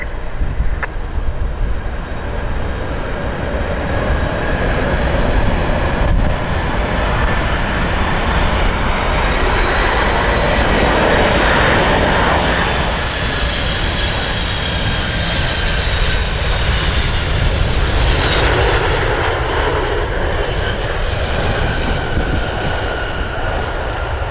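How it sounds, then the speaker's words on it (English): At Cleveland Hopkins International Airport, the Dubai Air Wing royal flight Boeing 747 touches down on runway 6 left, a loud, sustained roar of jet engines and rushing air that swells and shifts steadily throughout, with no voices. "Dubai 1 touching down here on runway 6 left at Cleveland Hopkins International Airport."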